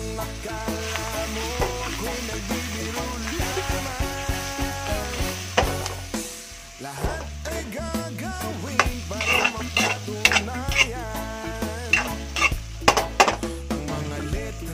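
Shrimp and onion leeks are stir-fried in a wok, with continuous loud sizzling and frequent scraping and clinking from a metal utensil stirring against the pan.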